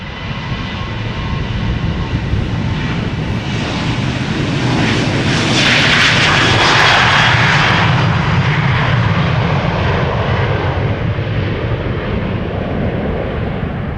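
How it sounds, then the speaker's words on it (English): A Boeing 787 taxiing at Amsterdam Schiphol Airport, its jet engines giving a steady, loud broadband roar that swells toward the middle as it passes close, then eases slightly, with no talk. "787 to Panama City is taxiing, also coming this way"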